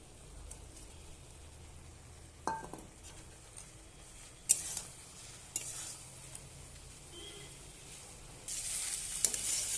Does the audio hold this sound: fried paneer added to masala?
yes